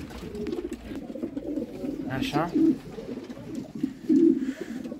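Pigeons coo in a pigeon loft holding breeding pairs, eggs and young squabs, with repeated soft low rolling coos close by while someone speaks briefly over them.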